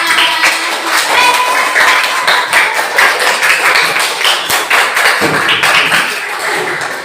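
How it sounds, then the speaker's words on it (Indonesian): A room full of people applauding together, steady loud clapping that carries on throughout with scattered sharper taps and a gradual thinning near the end. "Tepuk tangan untuk kita semua."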